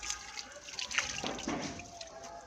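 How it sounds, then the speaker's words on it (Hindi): Water is poured over a foot during wudu ablution, giving a close, soft stream of trickling and splashing with small drips and uneven surges for a couple of seconds. "इस तरह अच्छी तरह ऊपर पानी बहाना है ताकि कोई जगह खुश्क ना रह जाए"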